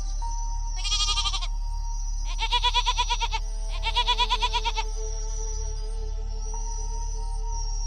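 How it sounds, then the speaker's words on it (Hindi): A goat bleats loudly three times, each call long and quavering, separated by short pauses over a low background hum. "तभी अचानक रात में बकरी जोर जोर से बोलने लगता है।"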